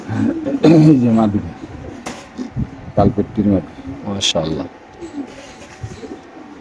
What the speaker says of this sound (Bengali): একদম পাকিস্তানি কবুতর